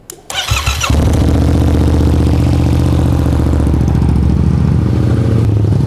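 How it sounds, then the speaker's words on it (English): A Yamaha MT-07 motorcycle cold starts close by: a short whirring crank catches into a loud, steady, throbbing idle that holds for the remaining seconds, with no talking. "Cold start, Yamaha MT-07. Please don't explode on me."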